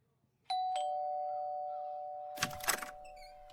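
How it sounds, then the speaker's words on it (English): A two-note doorbell chime rings once and slowly fades out, followed by a brief rattle near the end. "Ring the doorbell, Gordon."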